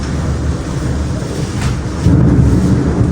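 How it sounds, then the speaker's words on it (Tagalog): Strong wind from a rainstorm in Qatar roars steadily across the microphone, a dense low rumble that swells louder near the end. "Ang lakas ng hangin eh."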